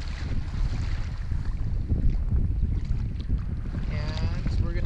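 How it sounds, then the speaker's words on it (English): A kayak paddling through rolling waves on the Kootenay River, with close splashing and water rushing past the hull under steady wind buffeting, and a brief bright paddle-stroke splash near the end. "just kind of paddle at the top of the wave and kind of ride through till you get to the bottom"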